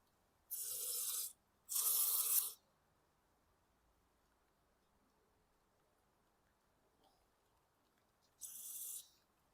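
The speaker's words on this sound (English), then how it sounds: "I'll just throw a little carb clean through this thing" Carburetor cleaner is sprayed through a 2019 Troy-Bilt TB400-XP lawn mower carburetor in three loud, close hissing bursts: two back to back, then a pause and a third, with near silence between them.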